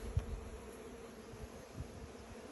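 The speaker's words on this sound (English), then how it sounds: "There's so many bees like flying around right here." Honeybees buzz steadily during a beehive inspection, a dense, faint, continuous drone of many bees flying close by, with a few soft thumps and handling noises underneath.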